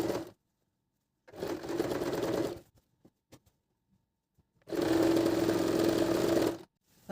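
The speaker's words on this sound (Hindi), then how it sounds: "अब इसको हम स्टिच करेंगे।" A sewing machine stitches the seam of a loose palazzo, running in two bursts with a pause between, close and loud with steady motor whir.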